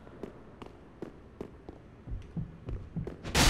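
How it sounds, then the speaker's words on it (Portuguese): A heartbeat effect from the video game Dark Souls 3 thuds in a steady, evenly spaced rhythm, growing louder and denser toward the end, where a burst of broadband noise swells in. "Vocês conseguem ouvir aí o barulhinho de coração batendo?"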